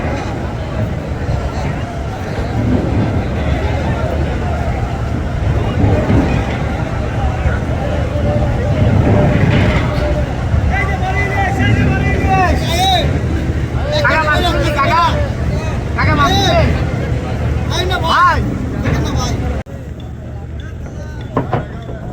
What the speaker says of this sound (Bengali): দর্শক, আমরা এখন চাঁদপুরের লঞ্চ ঘাটে আছি। এখানে লঞ্চ ঘাটের পাশে এখানে নৌকাতে করে ইলিশ মাছ বিক্রি করতেছে।